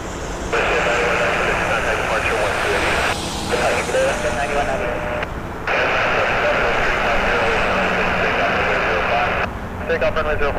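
A jet airliner taking off from runway 05 at Toronto Pearson Airport, a loud sustained engine roar heard from the ground, steady throughout with brief dips.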